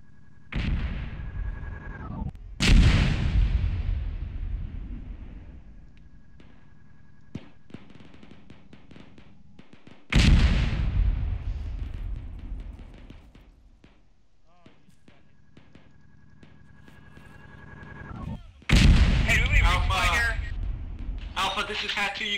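Mortar shells landing in a video game battle, a few heavy booming impacts spaced several seconds apart, loud and close, with voices talking over the rumble between blasts.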